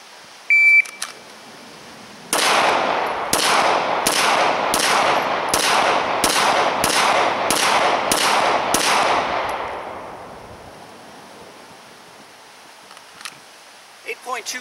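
Ten loud pistol shots fired at a steady pace of under a second each in a 10-shot, 10-second drill, each crack trailing a ringing echo, preceded by a short electronic timer beep.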